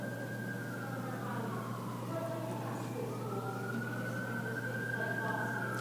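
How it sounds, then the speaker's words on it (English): A siren from an emergency vehicle wails steadily in rising and falling sweeps as it passes, loud over a constant low hum, with background talk during a COVID-19 announcement at the State House. "The siren's got to get by."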